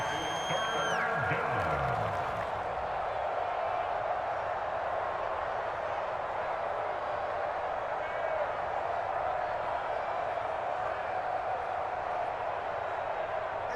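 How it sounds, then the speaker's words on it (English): Steady, loud stadium roar from a virtual Arrowhead Stadium crowd in the Madden NFL 25 football video game, cheering for the Chiefs late in the game. The roar runs without a break, with a few brief tones near the start. "The Arrowhead crowd in full roar."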